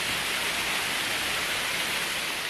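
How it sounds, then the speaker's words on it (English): Charlhan Falls in Lamington National Park, a waterfall running with low flow after little rain, heard as a steady, dense hiss of falling water, unbroken and fairly close. "So we made it. Charlhan Falls."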